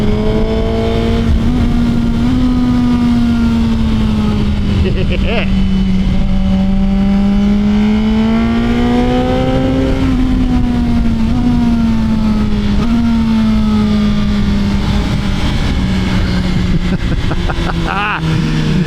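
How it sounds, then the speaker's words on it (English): A Suzuki GSX-R1000 sport motorcycle is ridden hard under power, its engine note droning loud and close while rising and falling with throttle and shifts throughout, and a rider talks over the roar. "I absolutely love getting this bike on the side of the tire, getting it under power."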